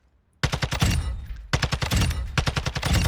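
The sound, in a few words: automatic weapon gunfire in the video game Warzone 2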